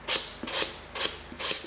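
220-grit sandpaper wrapped around a length of PVC pipe, rubbed over the curves of an EVA foam hand cannon in four quick, close, rasping strokes.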